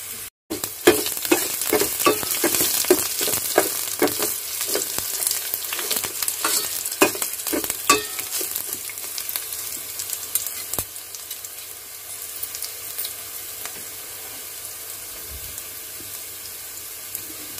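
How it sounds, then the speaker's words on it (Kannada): Onions fry in a pan for sambar with a continuous sizzle, while a utensil scrapes and stirs in regular strokes over the first several seconds before the hiss carries on alone. "ಈಗ ಇದು ಚೆನ್ನಾಗಿ ಒಂದು ಸ್ವಲ್ಪ ಈರುಳ್ಳಿ ಮಾಗಬೇಕು."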